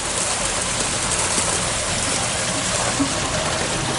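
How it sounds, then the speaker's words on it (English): Water from a sump pump rushes steadily down a drain in a broad, continuous gushing wash, close and fairly loud, with no pauses. "Water is running down real fast."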